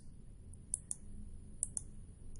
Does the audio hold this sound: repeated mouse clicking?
yes